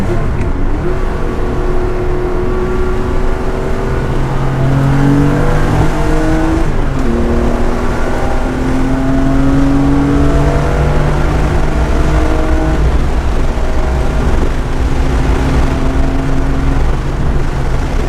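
A 1980 Porsche 911 SC backdate drives past with a steady, loud engine drone whose pitch rises and falls over about eighteen seconds, sounding close throughout.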